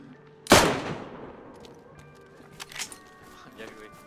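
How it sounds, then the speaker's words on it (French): A single loud, sharp gunshot cracks out close by in the survival game DayZ, then decays, followed by faint clicks and shuffling. "Bon, ça me tire dessus."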